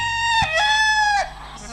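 A rooster crows once loudly and close, a long harmonic cock-a-doodle-doo call that holds and falls at the end, with no talk.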